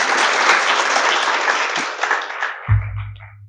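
An audience at an education and values lecture bursts into sustained, dense applause that fills the space for nearly three seconds, then breaks off abruptly into a low, booming hum.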